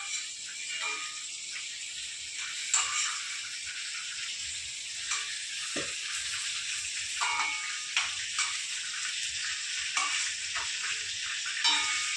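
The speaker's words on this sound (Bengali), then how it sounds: "মাছগুলো ভাজা হয়ে গেছে। এবার তুলে দেবো।" Magur catfish frying in hot oil, a steady dense sizzle and crackle running the full length at close range, with small pops and occasional louder spits, no voices.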